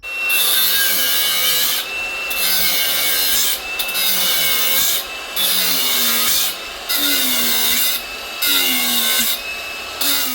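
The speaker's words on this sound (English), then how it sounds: "So I'm going to get into cutting this" A car part being cut to fit on a Mitsubishi Magna street stock car, with a hand saw rasping in repeated back-and-forth strokes. The cutting is loud and close and breaks off in short pauses between bursts.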